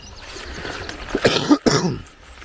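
A single rough cough with a throat-clearing rasp, close to the microphone, standing alone against quiet background noise.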